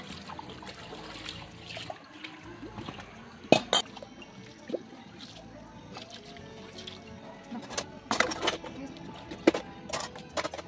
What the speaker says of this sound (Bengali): এখন এই যে মেজে নিচ্ছি